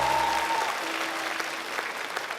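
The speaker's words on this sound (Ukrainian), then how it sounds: "Оплески." Brief burst of audience applause in a talent show studio, dense clapping from a crowd heard throughout, with a faint tone under it at the start.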